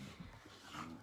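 Dogs growl and grumble low while fighting over a toy, a brief close rumbling scuffle that lasts about a second with no talking.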